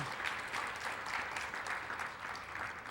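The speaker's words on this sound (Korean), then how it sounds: "자 차렷 경례 큰 박수로 축복해 주시기 바랍니다." A church congregation applauds to bless a departing couple, a soft, even patter of many hands clapping continuously, somewhat distant and fairly quiet.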